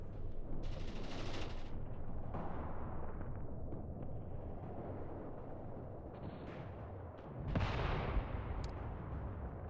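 Artillery fire mission in the Mius Front war game: a dense, continuous barrage of booming shots and blasts runs the whole stretch, with a sharper, louder impact surge near the end.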